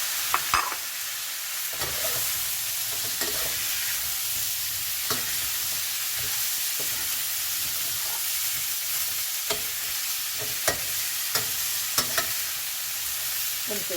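Mixed vegetables with fish balls and glass noodles stir-fry in a pan, a continuous loud sizzle broken by repeated scraping and clacking stirs at an irregular rhythm, close up.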